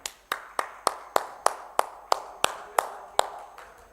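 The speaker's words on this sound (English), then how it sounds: "A big round of applause for everybody." A single person claps slowly and evenly at a law conference event, eleven sharp, close, ringing claps spaced about a third of a second apart, rather than a crowd's dense applause.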